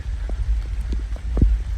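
Rain falling in the woods on a wet trail, steady soft patter with a low rumble underneath and a few heavier drops, close and continuous with no voices.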